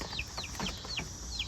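Backyard hens, Marans and Easter Egger breeds, give a run of soft, clipped clucks, roughly five quick calls in a loose rhythm against light outdoor background noise.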